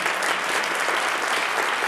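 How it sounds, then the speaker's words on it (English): Applause from an audience honoring Hall of Famer Lou Brock at the Buck O'Neil Legacy Awards, a steady, dense wash of clapping that runs evenly throughout without a break. "Another round of applause for Hall of Famer Lou Brock."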